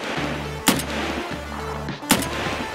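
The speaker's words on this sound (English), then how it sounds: "That's you shooting, I'm guessing?" Two sharp, loud gunshots ring out in the Escape From Tarkov video game, spaced about a second and a half apart over a steady low in-game hum.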